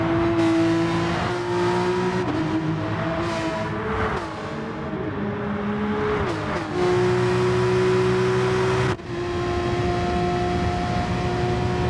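A race car engine in a racing video game at Bathurst drones at high revs with strong steady harmonics, pitch dipping and rising through gear changes and lifts off the throttle, loud and continuous.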